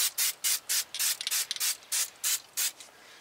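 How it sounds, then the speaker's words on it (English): Aerosol can of Fluid Film coating sprayed onto the front brake hub of a 2012 Dodge Ram 1500, about ten short, loud hissing bursts in a quick, even rhythm, close up. "Now we're going to coat it with some fluid film."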